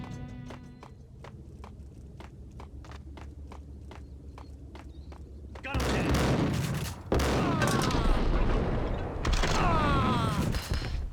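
In a video game, a grenade explodes and gunfire erupts: regular sharp taps first, then a sudden loud blast opening into a dense, rolling barrage of shots and crashes that continues to the end.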